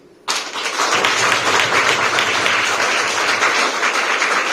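At a religious gathering, applause erupts suddenly after a brief quiet moment, then holds as loud, continuous clapping from a large crowd.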